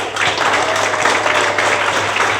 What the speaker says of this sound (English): I'd like to give a round of applause to your support system.